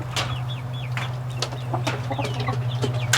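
Steady clucking from several chickens, with soft chirpy calls scattered over a constant low hum.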